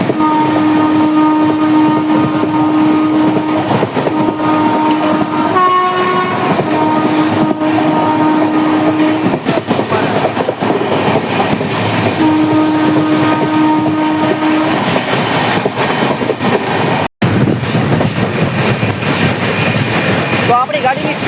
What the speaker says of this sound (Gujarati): તો આપણી ગાડીની સ્પીડ તમે ભાઈ નક્કી કરી લ્યો યાર, કેટલી હશે. જો ફૂલ સ્પીડમાં જાય છે.